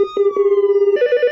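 A Casio CTX 9000 keyboard plays its telephone-ring sound effect, a loud, rapidly pulsing electronic trill that steps up in pitch near the end, with no other sound.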